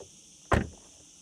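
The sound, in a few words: Ferrari Amalfi frameless car door closing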